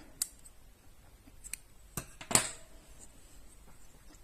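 Scissors snip through yarn while crocheting a strawberry hat: a few sharp, close clicks, one louder cut standing out, in a quiet room.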